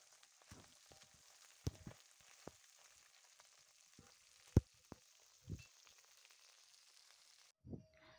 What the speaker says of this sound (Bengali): মাছটা আমার ভেজে রেডি করা হয়ে গেছে